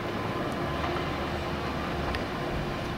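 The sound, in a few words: train passing beyond the trees near a hiking trail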